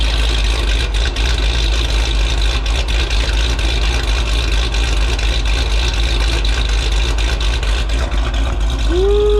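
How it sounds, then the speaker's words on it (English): Supercharged, cammed 5.7 Hemi V8 idling just after startup, a loud, steady, rough low rumble with continuous mechanical clatter and whine throughout, close by. "Dave just did a startup tune and started her up a second ago."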